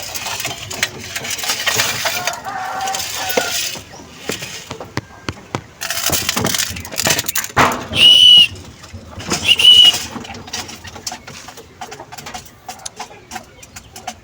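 Pigeons at a breeder's loft peck and feed, with irregular sharp taps and scuffles, occasional wing flaps and a couple of short bright tones, fairly close with muffled background movement.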